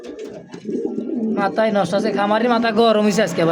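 Pigeons coo at a pigeon sale, a low burbling call that carries on underneath as someone talks loudly and continuously over the birds for most of the stretch.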